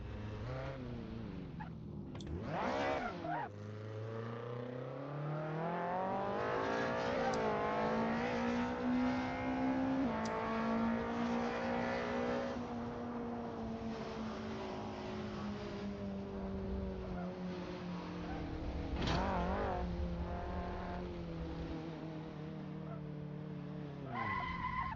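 A race car engine in the Assetto Corsa video game drones and revs around the Nordschleife, pitch rising and falling through shifts and corners, with brief tire squeals along the way.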